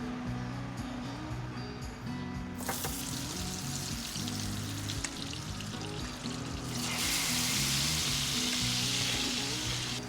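Beef salpicao fries in a hot pan with a steady, close sizzle that swells louder partway through and again near the end, along with occasional stirring scrapes.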